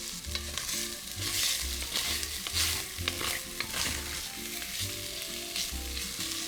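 Filet beef and mushrooms fry in olive oil in an iron pan, a steady close sizzle with repeated scraping stir strokes and utensil clinks throughout, no voices.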